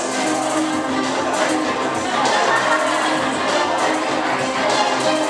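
Steady, dense applause from an audience at an indoor HSBC motivation training session in Medan, a continuous wash of clapping and crowd noise lasting several seconds without pause.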